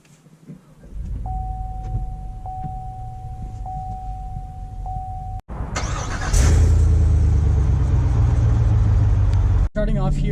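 A 2018 Chevy Tahoe SUV engine hums steadily while driving, then swells louder with a heavy rumbling rush of road and engine noise.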